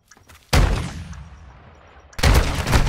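Heavy shotgun slug blasts fired from the hip in a video game, two loud booming shots about a second and a half apart with a lingering rumble between them.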